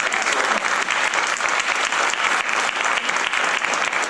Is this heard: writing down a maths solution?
no